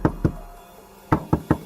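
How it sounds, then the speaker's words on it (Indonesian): Knuckles rap on a house door as a sound effect in a narrated mystery story: two sharp knocks, a pause, then three quicker ones, loud and close with no voices. "Riko kemudian mengetuk-ngetuk pintu rumah Pak Gino."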